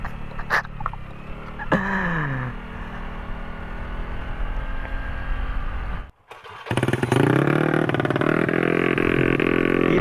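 A motorcycle engine idles roughly with a few blips of the throttle, cuts out briefly, then roars back loud and close as it revs hard for the last few seconds.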